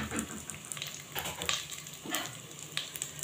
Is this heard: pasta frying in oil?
yes